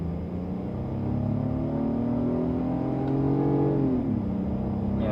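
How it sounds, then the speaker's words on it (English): Acura TLX A-Spec engine revving with an artificial V6 note piped into the cabin, a steady droning hum rising in pitch, then dropping briefly near the end as the revs change, heard from inside the car. "it's giving you a V6 note interior here, but it's definitely artificial"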